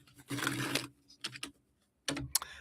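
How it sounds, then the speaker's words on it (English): A deck of cards being shuffled during a live card reading gives off close, papery bursts of riffling and flapping, one long burst followed by shorter ones with a brief quiet gap between. "let's get these shuffled up"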